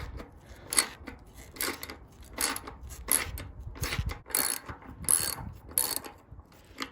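Ratchet turning to undo a bolt on an Indesit washing machine: a close, rhythmic series of sharp clicking strokes, roughly one per second, each a quick burst of ratcheting pawl clicks.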